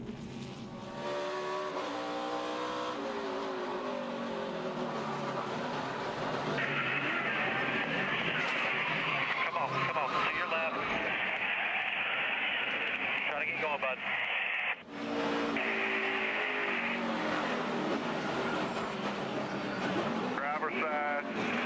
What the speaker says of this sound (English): Now we're going to ride along with Alex Tagliani as we restart, or show the restart